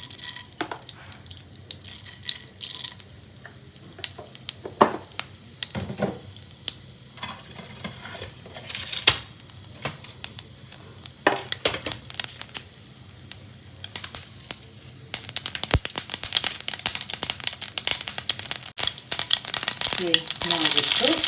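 Mustard seeds crackle in hot oil in a pan, scattered sharp pops and light stirring at first, then building to a loud, dense sputtering sizzle near the end, close up and without speech.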